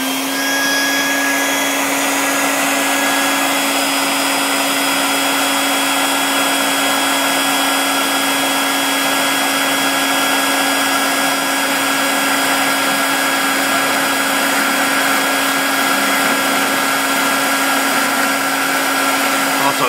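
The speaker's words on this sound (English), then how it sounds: "We'll turn it on and go from there and then hit the vacuum." A shop vacuum for swarf control on a Dyna Myte milling machine runs as a loud, steady drone with a constant whine, unchanging for the full twenty seconds.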